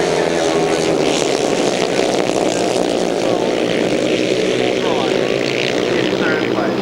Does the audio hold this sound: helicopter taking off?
yes